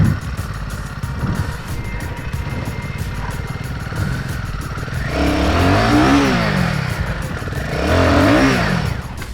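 A Royal Enfield adventure motorcycle revs hard while struggling for rear-wheel traction, its engine note rising and falling in two strong surges over a steady running drone, close and loud.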